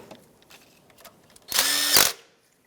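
A power drill-driver whirs for about half a second while driving in the bolt that holds down a bracket in the engine bay of a 2012-2020 Ford Focus, loud and close after faint handling clicks.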